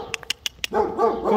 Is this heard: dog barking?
yes